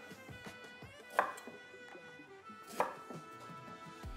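A knife chopping ginger into thin matchsticks on a cutting board, with quiet, rapid, regular taps and two sharper louder knocks, all near and without talk.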